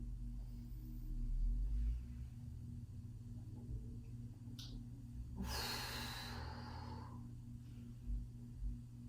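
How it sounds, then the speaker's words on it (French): Pilates stretching session: a slow inhale, then a longer, audible exhale of breath, fairly close, over a steady low room hum and faint background rumble, with no talking. "On vient cambrer le dos, on inspire. Expire."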